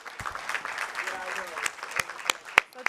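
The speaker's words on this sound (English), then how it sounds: "Let's have a round of applause" An audience at a naturalization ceremony claps in a short burst of applause while a voice talks over it.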